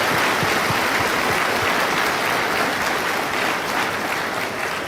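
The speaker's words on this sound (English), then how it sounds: "Dr. Mahathir deserves a round of applause for his energy." Loud, dense applause from a large audience at an open dialogue with the Malaysian prime minister, continuous clapping filling the whole stretch without pause.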